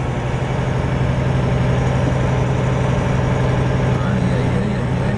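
A truck engine idles steadily throughout, a constant low rumble with a droning hum, close and fairly loud.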